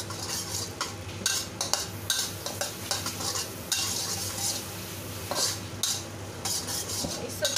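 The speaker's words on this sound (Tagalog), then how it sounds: "Isusot natin siya ng maigi para lalabas yung kanyang aroma." Aromatics sautéed in a pan and stirred until golden brown, as a base for Chinese-style green shell mussels: a steady soft sizzle with scraping and clinking of the utensil against the pan, no talking.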